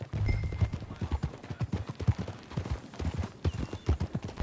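Horse hooves clop in a quick, steady rhythm, close and clear, with a brief faint whinny early on, in the video game Red Dead Redemption 2.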